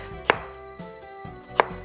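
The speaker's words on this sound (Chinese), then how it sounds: "我哋切啲紅葱頭" Shallots chopped with a knife on a cutting board: a few sharp, close single knife strikes spaced irregularly, with quiet pauses between them.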